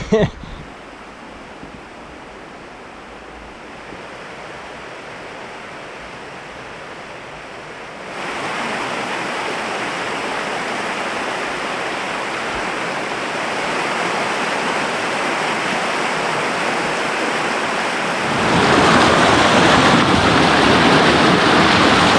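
Water rushing through a deep channel in the Australian bush, making a steady broadband roar that swells louder partway through and again near the end, continuous and close.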